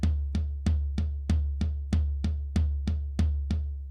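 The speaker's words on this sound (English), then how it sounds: "That sounds like a floor tom." Floor tom drum sample hit in a steady rapid run of about a dozen strokes, each a deep, round thud blending into a continuous low ring, heard close with nothing else.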